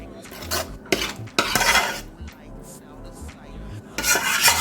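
Cheesy macaroni noodles for smoky bacon mac and cheese being scraped out of a pot with metal utensils: repeated clanking and scraping bursts, close and fairly loud, with no talking.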